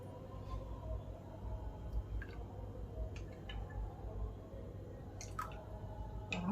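Thick, chilled lassi made from homemade and store-bought yogurt, with small curd lumps, pours into a glass with soft dripping, squishy splashes and a few sharp clicks over a steady low background hum.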